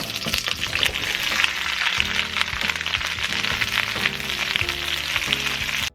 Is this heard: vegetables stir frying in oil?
yes